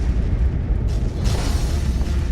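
A ship rocked by an explosion after being struck by cannon fire in a naval battle, heard as a loud, sustained low rumble and roar that fills the whole clip.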